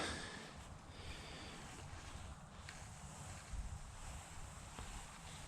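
Steady, rumbling wind buffets the microphone outdoors during winter fishing, a constant low roar with no voices.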